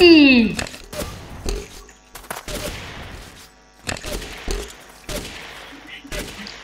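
Bursts of gunfire in the block-building shooter Ace of Spades crack out in short separate volleys, sharp and fairly loud, while players talk excitedly over them.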